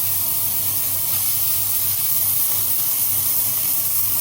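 Seasoned, oiled meat hitting a hot pan, giving a steady, loud broadband sizzle and hiss that holds evenly throughout, close up, with no talking.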